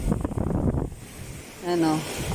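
Wind buffets and rumbles across the microphone at the sea, with a voice speaking briefly near the end.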